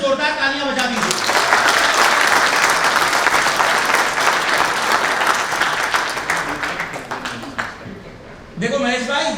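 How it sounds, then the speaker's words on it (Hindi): Loud, sustained audience applause fills a gathering of the Indian Small Scale Paint Association, swelling quickly and then tapering off, with a voice speaking just before and just after the clapping. "तो अगर आप उनका समर्थन करते हो तो एक बार उनकी शान में जोरदार तालियां बजा दीजिए।"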